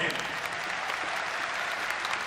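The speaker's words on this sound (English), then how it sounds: "Round of applause for him." Sustained crowd applause at a Reform UK local election campaign launch, dense clapping filling the room at moderate distance with no pauses.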